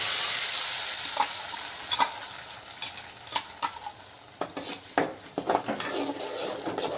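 Ground radish paste hitting a hot pan with ghee for radish halwa, sizzling steadily while a utensil scrapes and stirs in irregular clicks and knocks, close and fairly loud with no talking.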